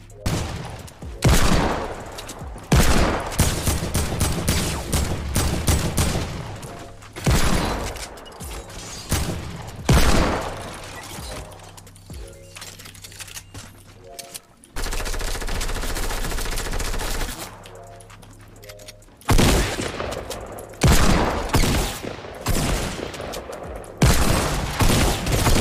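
Gunfire in the video game Fortnite, including Desert Eagle shots, comes in loud, dense bursts of rapid and single shots with booming impacts across the whole stretch.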